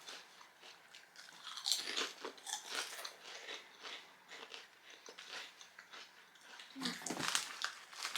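Close, fairly quiet crunching as someone chews Italian crisps: irregular crisp bites and brittle crackles come in clusters, with louder bursts near the start and the end.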